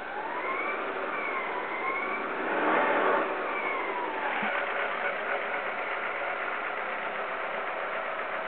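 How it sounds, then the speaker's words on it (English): A 2001 Alfa Romeo 147 T Spark, smoking after a jump start, idles steadily at close range with a slight swell and wavering in pitch as the engine hunts. "engine sounded like it hunted a little bit then"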